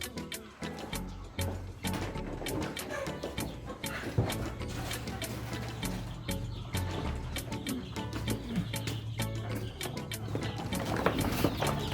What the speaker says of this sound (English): So we can also check our baby chicks.